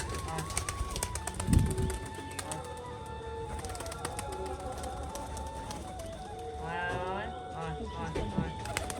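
Pigeons eat grit while cooing nearby, with soft pecking taps and a brief thump, under a person talking.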